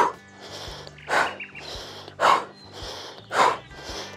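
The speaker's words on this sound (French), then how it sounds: "Voilà, tu souffles. Entends ta respiration." Deep exhales during a beginner yoga abdominal exercise, four strong breaths about a second apart, close to the mic over a low steady hum.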